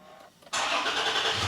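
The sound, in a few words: truck engine cranking and starting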